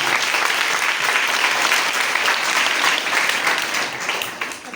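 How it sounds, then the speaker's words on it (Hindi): An audience applauds scientists at a National Space Day celebration, with steady, dense clapping from a large crowd that holds strong for nearly five seconds before tapering slightly at the end. "तो उन सब के लिए जोर से तालियां बजाएं।"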